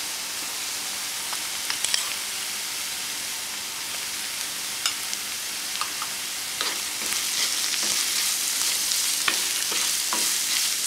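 Turmeric powder and chole masala sizzle steadily in a hot pan while a spoon stirs through them, giving a constant frying hiss broken by occasional scraping clicks as the spices are mixed.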